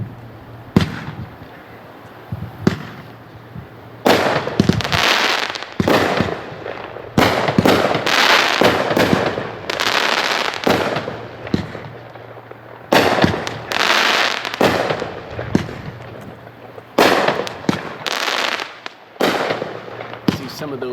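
A Roundup Ready consumer firework cake fires 16 shots with ring effects: a loud run of outdoor booms and crackling bursts, some in quick clusters and others spaced apart, each with a long echoing tail.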